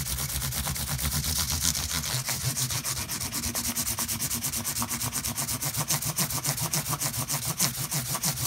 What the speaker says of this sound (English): I'm going to use 400 on a round block